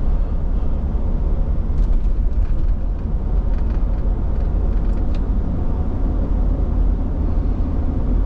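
A 1993 Toyota Land Cruiser VX-Limited with 55,000 miles is heard from inside while driving, a steady low engine and road rumble throughout with faint rattles and no speech.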